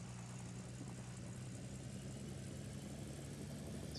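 A dump truck engine in the Gold Rush video game drones steadily throughout, a low continuous idling rumble with a constant hiss, fairly quiet and unbroken.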